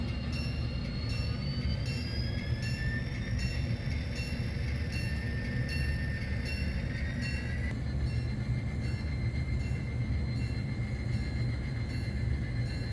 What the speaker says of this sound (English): the train is coming, the locomotive is coming to pick up the transfer caboose